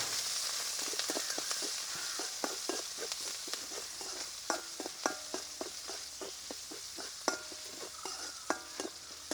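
Crushed ginger and garlic fry in hot oil for a Kerala roasted coconut chicken curry, giving a steady close sizzle broken by repeated sharp clicks and scrapes of a spoon stirring the pan, with no talking.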